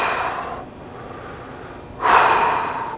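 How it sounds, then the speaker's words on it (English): Slow deep breaths taken during a calming exercise for anxiety: a long audible exhale fades into quiet, then a strong, close breath rushes in near the end, with no talking. "do some breathing"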